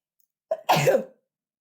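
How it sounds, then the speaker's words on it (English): A person gives a single short, sharp sneeze: a faint intake, then an explosive burst lasting about half a second, close and alone in an otherwise silent room. "I'm about to sneeze"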